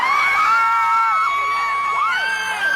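Crowd shouting and cheering outdoors as a flying car malfunctions and tilts to one side above them, loud sustained yells and high-pitched whoops and screams from many voices.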